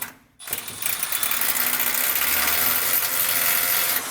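An SDS drill bores continuously into a surface while mounting a large garage cabinet array, a steady close, grinding whir that starts after a brief pause and holds at an even level, with no talking.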